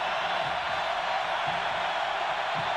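Steady roar of a stadium crowd at a Florida State home football game against Florida in 2000, a dense, continuous wash of distant voices with no standout cheers, loud and unbroken throughout.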